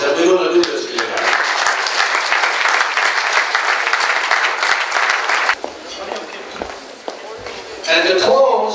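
Loud, dense crowd applause fills a political victory reception hall, sustained clapping that drops off then swells again near the end.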